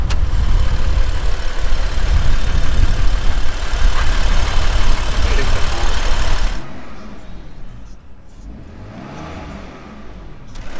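A BMW M4 engine idles up close with a steady loud rumble. It drops abruptly to a quieter, smoother idle partway through.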